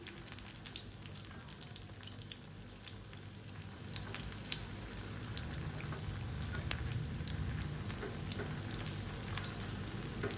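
Sweet appam frying in hot oil for a Karthigai Deepam festival treat, a steady soft sizzle and bubbling close by with occasional small crackles and pops, no talk.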